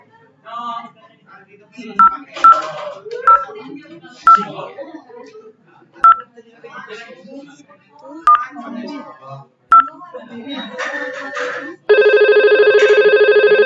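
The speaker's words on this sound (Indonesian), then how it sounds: "Selanjutnya kita akan coba menelepon dari IP phone yang 0 ya" An IP phone in a Cisco Packet Tracer simulation sounds a series of short, crisp keypad dialing beeps between stretches of talking, then a steady, loud repeating ring tone.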